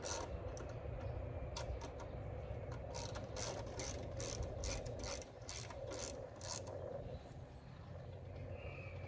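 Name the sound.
ratchet removing bolts on Harley radio fairing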